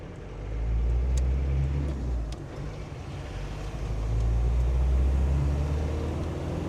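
A Land Rover Defender 300 Tdi diesel with a VNT turbo, running under boost on a dyno, gives a loud, steady low drone that swells midway and holds strong, with no voices.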